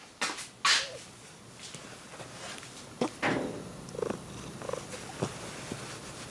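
A house cat purrs softly close by in a kitchen, a low continuous rumble broken by a few sharp knocks and clicks nearby.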